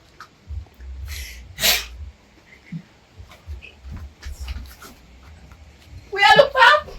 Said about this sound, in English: that's a double sneeze